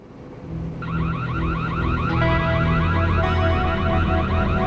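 An electronic burglar alarm blares loudly and continuously, cycling through warbling, pulsing tones with no voices around it.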